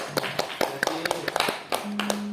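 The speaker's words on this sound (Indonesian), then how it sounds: "Tepuk tangan buat Pak Agus." Scattered applause for Pak Agus at a school program presentation, a thin group of close hand claps tapping irregularly over a couple of seconds, with faint background sound and no talk.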